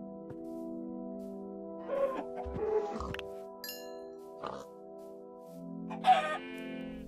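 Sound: chicken clucking in Minecraft video game

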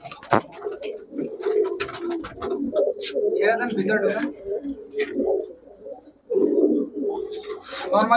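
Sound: pigeons cooing

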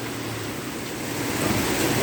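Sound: heavy rain pouring on a flooded road in Pak Chong

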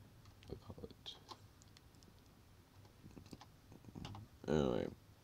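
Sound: typing and clicking on a computer keyboard

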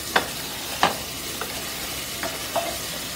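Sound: frying crushed ginger and garlic in a kadhai

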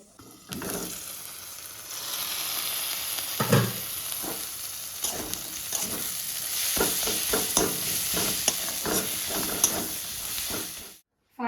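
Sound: dried fish bharta cooking in a wok

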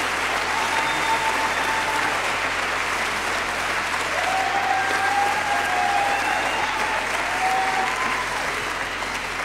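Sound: audience standing and applauding at a concert

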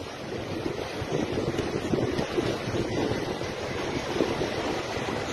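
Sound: roaring surf from high tide and storm swell at beach

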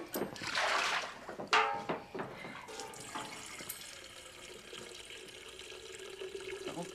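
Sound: water poured into a bath

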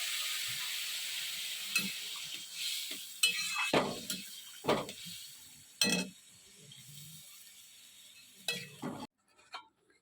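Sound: vegetables sizzling after water poured from a bottle

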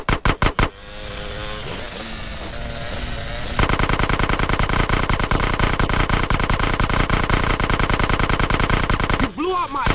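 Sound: gunfire next to the ear in video game GTA San Andreas

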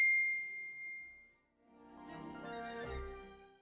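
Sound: notification bell ding sound effect

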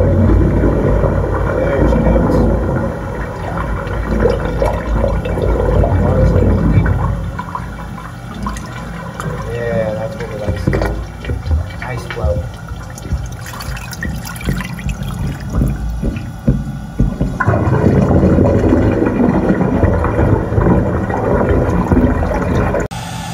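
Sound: toilets flushing into drain line

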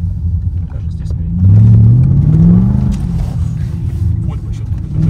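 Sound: BMW car driving sideways on winter tires

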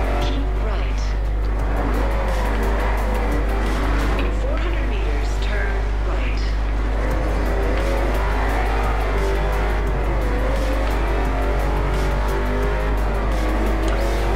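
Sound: car driving in Forza Horizon 2 video game

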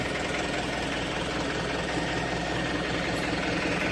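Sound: Yanmar 72 hp tractor engine revving

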